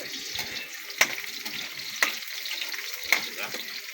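Onion frying in a pan over a wood fire, a steady close sizzle and hiss broken by three sharp clicks about a second apart.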